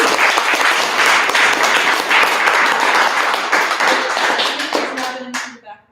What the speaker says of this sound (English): give him a 3rd round of applause